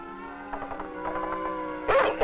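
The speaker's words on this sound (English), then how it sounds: "A dog came." A dog barks and yips a few times at mid distance over a sustained, tonal background, ending in a louder, rougher bark burst.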